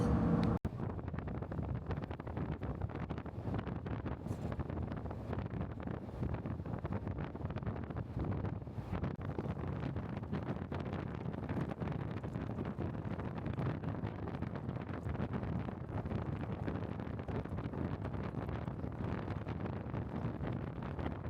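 Strong wind on the Outer Banks buffets the microphone in a constant, dense roar that continues unbroken for the whole stretch, with no voices.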